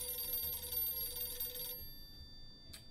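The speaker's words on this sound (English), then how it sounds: "I'm not going to answer the phone." An electronic telephone bell rings in a video game, a steady trilling ring that cuts off partway through, followed by near silence and a brief faint click.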